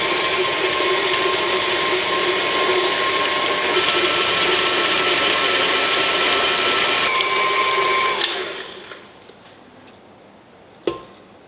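Stand mixer with a paddle attachment beating eggs into eclair choux dough, a steady loud whirring hum that cuts off near the end and leaves a faint tail and one brief clack.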